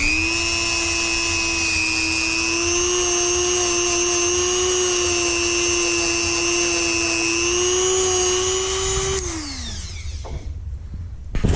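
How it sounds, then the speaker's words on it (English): A Dremel fitted with a tiny wire wheel cleans the valve seats of a cylinder head for a 5.3 engine, holding a steady, loud high-pitched whine before spinning down and falling quiet near the end. "I got this tiny wire wheel on the Dremel, and you want to clean up where the valves sit."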